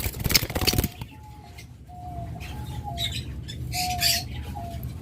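A pair of lutino Fischer's lovebirds at a bird market gives a burst of loud squawking, then thin high whistled calls and chirps over a background of other birds.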